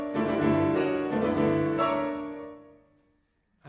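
Dissonant chords from Ravel's Valses nobles et sentimentales ring out on solo piano in a Viennese waltz lilt, the second beat lingering, with a few close, resonant strikes that decay slowly into quiet.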